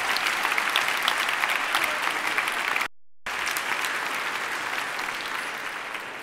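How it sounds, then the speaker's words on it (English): Loud, dense applause from a large audience at a talk, a continuous roar of many hands clapping, broken by a brief moment of total silence before it resumes just as full. "Let's an applause to Paco"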